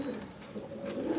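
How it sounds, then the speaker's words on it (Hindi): A pigeon in a loft keeping highflying Giribaj and Madrasi birds coos in a low, continuous rolling murmur, close and steady with no voices. "ये देखिए बंदूम वाला कबूतर है"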